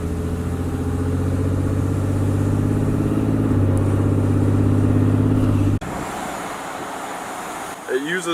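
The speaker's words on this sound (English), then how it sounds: "driving with the exhaust brake is so much better because it sounds amazing" Low, steady rumbling drone of a Cummins diesel truck's exhaust brake that cuts off abruptly, leaving quieter road and engine noise.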